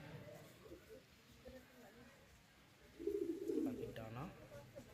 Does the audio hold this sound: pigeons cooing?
yes